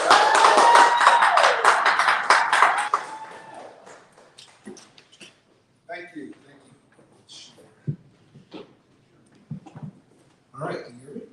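An audience at a live book conference in San Francisco applauds a guest speaker, the author of the book Limitless. The clapping is dense for about three seconds, then thins into scattered claps and light thumps.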